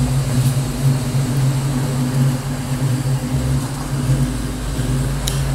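A modified, cammed 1990 Ford Mustang Foxbody 5.0 V8 idles steadily at moderate distance, a continuous low rumble with a choppy cam lope and no speech.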